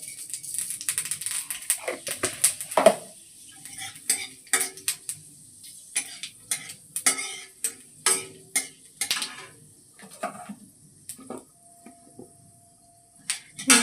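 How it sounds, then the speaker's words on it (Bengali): Panch phoron whole spices, with dry red chillies, hitting hot oil in a pan, giving sharp crackling pops and sizzle along with stirring clinks and scrapes of a spoon against the pan, close and fairly loud, no talking. "দিয়ে দেবো সামান্য পাঁচফোড়ন।"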